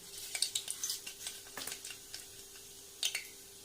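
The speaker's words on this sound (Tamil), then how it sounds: "இப்போ நான் ஏற்கனவே எண்ணெய் ஊற்றி காய வச்சுருக்கேன் இப்போ நம்ம என்ன ஒன்று போகிறோன்னா கொஞ்சம் கடுகு போட்டுக்கலாம்" Mustard seeds crackling and sputtering in hot oil, tempered for a spicy Tamil potato masala fry: a scatter of sharp, light pops spread irregularly across the clip, faint and close, with a brief cluster near the end.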